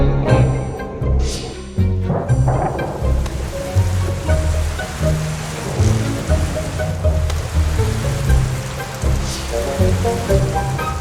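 Steady rain falls in the Amazon rainforest, a continuous dense patter on leaves and surfaces, loud and close throughout with no talking.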